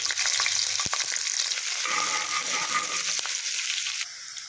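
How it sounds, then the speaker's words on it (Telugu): Green chillies and onions fry in hot oil in a pot, a loud, close, continuous sizzle with faint stirring scrapes and no talk. "వేడైన తర్వాత ఇందులో మనం పచ్చిమిర్చి ఆనియన్స్ వేసుకోవాలి"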